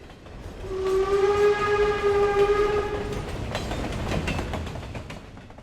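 A train runs along the rails, a steady rumbling clatter that swells and holds, with a long horn or whistle sounding over it for a couple of seconds before the rolling noise carries on alone.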